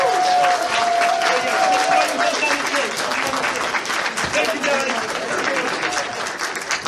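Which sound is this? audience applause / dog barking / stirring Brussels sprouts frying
audience applause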